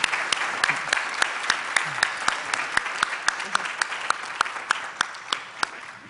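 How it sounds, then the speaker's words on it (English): Audience applause following a talk by Dr. Elizabeth Rosenthal, steady crowd clapping at moderate level with sharp individual claps standing out throughout, no voices over it. "Please join me in a round of applause."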